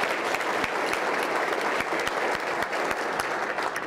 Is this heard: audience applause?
yes